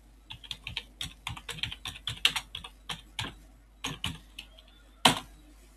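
Rapid keystrokes on a computer keyboard, close and clear, in irregular bursts and pauses with one sharper, louder clack near the end; no voice.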